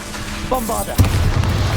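A Bombarda blasting spell from Hogwarts Legacy lands mid-fight as a single deep, booming explosion with a rumbling tail, preceded by brief sparkly magical tones and heavy battle noise.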